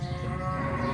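Cattle on a farm where 3B cattle are sold, heard as one sustained, low, nearby moo filling the whole short moment.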